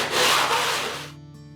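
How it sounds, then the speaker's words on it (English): Hand sanding of a radiused wooden acoustic guitar back, one steady abrasive rubbing stroke that swells and then tapers off, close and fairly quiet. "So more sanding till I get there."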